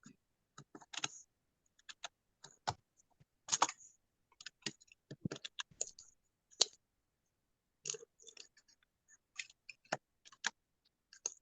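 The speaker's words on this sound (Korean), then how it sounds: "여기다가 정보보호 관리 체계라고 글자를 입력을 해주시고" Quick, uneven bursts of clicking keys on a computer keyboard as text is typed, crisp and close with short pauses between runs of keystrokes.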